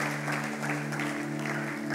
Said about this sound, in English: Let's clap for the ushers.